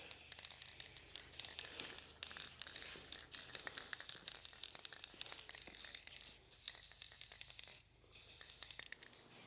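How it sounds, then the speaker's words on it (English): Primer sprayed from a can during a Case 1840 skid steer restoration, a series of short hissing bursts with brief gaps and some handling rustle, fairly quiet and close, with no voices. "Give this a quick coat of primer and get this baby painted and installed."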